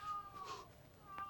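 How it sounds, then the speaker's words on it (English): A domestic cat lets out a loud, drawn-out meow indoors, wavering and sustained, followed by a brief second cry, with quiet room noise around it. "We have a very noisy cat."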